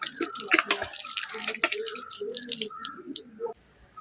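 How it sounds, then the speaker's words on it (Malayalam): Water is sprinkled over freshly planted chilli seedlings, giving soft irregular splashes and drips that are close and quiet, then trail off into near silence. "നട്ട് കഴിഞ്ഞ് ഇനി ഇച്ചിരി വെള്ളം തളിച്ചു കൊടുക്കാം"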